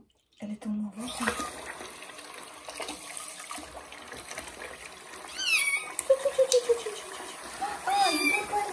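A kitten's first bath: loud, rising meows come in a close burst near the end over running water and light splashing, while a person talks softly throughout.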